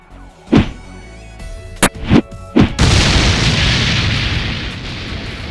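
A cartoon bomb explosion effect in a comic fight: three sharp booming blasts in quick succession, then a loud, sustained roaring rumble of debris that fills the rest of the clip, with no one talking.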